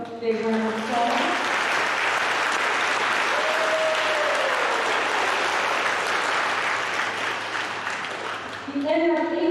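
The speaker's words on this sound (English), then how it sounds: "give them a both big round of applause" Sustained audience applause fills a middle school awards ceremony hall, a dense, steady clatter of clapping hands that holds for several seconds, with a voice speaking briefly at the start and again as it tapers off.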